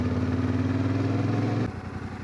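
A motorcycle ridden on a backroad toward Barkerville gives a steady, close engine drone that holds evenly, then drops abruptly to a lower, rougher note near the end.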